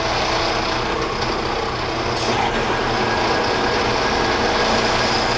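A Powermatic Model 90 metal lathe runs at about 1,000 RPM while a cut is hand fed. It makes a dense, loud, steady grinding and whirring noise with no speech.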